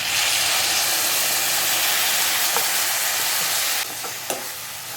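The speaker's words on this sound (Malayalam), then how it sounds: "നന്നായിട്ട് ഇതൊന്ന് വഴറ്റിയെടുക്കാം" Banana stem pickle mixture sautéing in a pan, a steady loud sizzle and hiss throughout that softens near the end, with a couple of faint stirring clicks and no speech.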